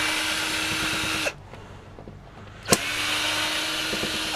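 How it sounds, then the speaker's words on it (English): Power drill backing screws out of an electric can opener, two loud steady whirring bursts at the start and end with a quiet pause between them. "Let's get these screws out."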